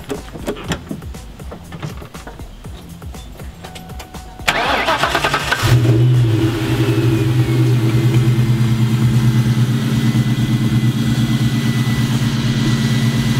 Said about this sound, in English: Give her a start up and just let her chill.